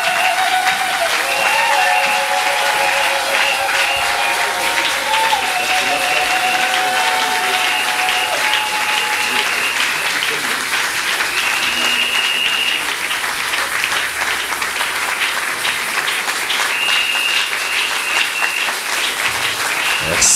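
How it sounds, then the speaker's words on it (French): A church congregation applauds and acclaims in praise, sustained loud clapping with voices and sung tones rising over it for about twenty seconds. "Est-ce qu'on peut applaudir? On peut acclamer."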